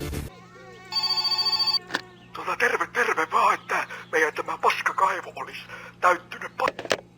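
A telephone rings in My Summer Car, giving one steady electronic trill that stops after about a second. Continuous talk then follows over a low hum.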